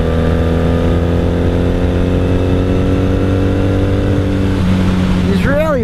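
A 1997 Honda Magna VF750C with a Vance and Hines exhaust rides along in fifth gear on a cold road, its engine a loud, steady drone close to the rider before shifting pitch near the end.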